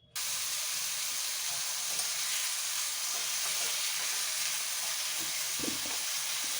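Potatoes set to fry in a home kitchen pan give a constant sizzle that rises abruptly from quiet and holds steady and fairly close, with a few soft clinks underneath and no talking.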